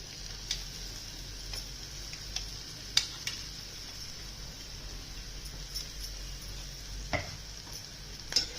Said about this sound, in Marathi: ते चांगलं असं खरपूस असं भाजून घ्यायचं चांगलं असं फोडणीमध्ये